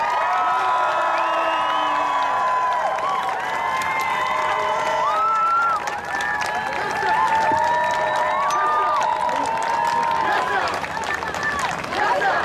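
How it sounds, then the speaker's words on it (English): An audience at a University of Calgary event applauds and cheers as a guest speaker is welcomed, with continuous clapping, whoops and shouted voices rising over the crowd for several seconds. "Keep the clap going, keep it going, keep it going."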